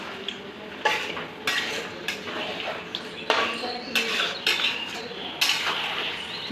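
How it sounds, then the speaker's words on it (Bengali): Chicken is stirred in a pan with a utensil, giving irregular bursts of scraping and clattering over a low background sizzle. "এই যে একটু নাড়াচাড়া করে নিলাম"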